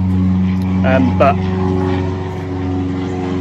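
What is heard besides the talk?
noisy aeroplane flying overhead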